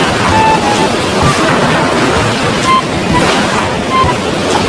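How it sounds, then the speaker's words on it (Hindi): Heavy storm with driving rain and rushing floodwater filling a forest, a dense, loud, steady roar of water and wind that fills the whole stretch without pause. "बीच में ही बहुत जोर का तूफान और बारिश आ जाती है।"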